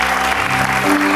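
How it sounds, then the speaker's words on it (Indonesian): A studio audience on a TV game show applauds for a contestant named Reza: a brief, loud, steady wash of clapping with a low hum and tonal sound underneath. "tepuk tangan dong buat Reza"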